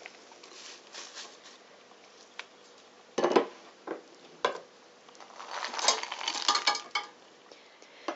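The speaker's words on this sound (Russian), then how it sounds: "Траву и ягоды я сложу в кастрюлю." Light clinks and rustling patter as herbs and berries are dropped into a metal pot, close by, irregular taps and scrapes with quiet gaps.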